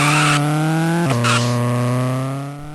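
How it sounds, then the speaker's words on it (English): A shrill synthesized tire screech from the Game Boy Advance racing game Need for Speed Underground, a steady loud tonal whine that dips in pitch briefly midway, then holds and slowly fades. "The worst offender here by far is the tire screech effect."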